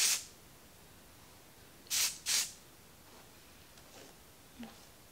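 Conditioning dry shampoo from an aerosol can gives two short, close hissing sprays in quick succession, followed by faint handling noises in an otherwise quiet room.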